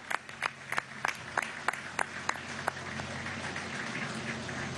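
Scattered clapping from a crowd at a public housing handover event in the Francisco Eugenio Bustamante parish of Maracaibo, several distinct claps at first thinning into a soft continuous patter, fairly distant and quiet.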